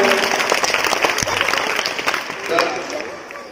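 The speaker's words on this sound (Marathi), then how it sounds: "उत्तर त्याचं बरोबर आहे. आपण टाळ्या वाजवूया." A classroom audience claps for a correct answer in a school math quiz contest, giving a dense burst of applause that fades toward the end, with voices mixed in.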